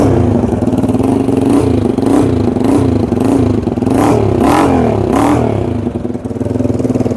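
A TVS Raider 125 motorcycle with an aftermarket exhaust, its engine loud and close with a rough, throbbing idle that swells through several revs and then settles back.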